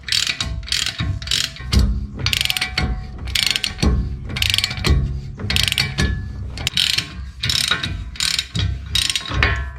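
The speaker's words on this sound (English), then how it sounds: "get this right size socket for the wheel nut and just tighten it up while holding the lever in there." Socket ratchet clicking steadily as a wheel nut is tightened on a Toyota Hilux wheel, fast loud bursts of pawl clicks repeating in strokes, close up with no talking.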